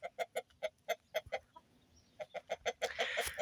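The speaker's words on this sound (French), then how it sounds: "on va parler de cette poule bleue" A blue hen clucks close by in a rapid, rhythmic series of short calls. The calls pause briefly partway through, and a burst of rustling or flapping follows at the end.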